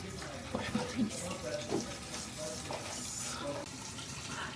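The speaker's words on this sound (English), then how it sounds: "I'm just gonna wash my face" Tap water running into a sink while someone washes their face, a steady moderate splash with brief louder splashes and a voice murmuring underneath.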